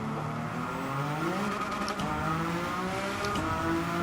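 Race car engine held flat out in a racing video game, a Pikes Peak Suzuki Escudo on the Sardegna circuit, a steady loud droning roar with shifting pitch, gear changes and a brief dip, continuous throughout.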